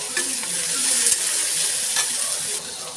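Sliced onions and slit green chillies frying in a pan for an egg and potato curry, a steady close sizzle with stirring scrapes now and then, no talk over it.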